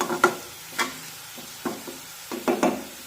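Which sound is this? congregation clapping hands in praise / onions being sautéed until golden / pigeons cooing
onions being sautéed until golden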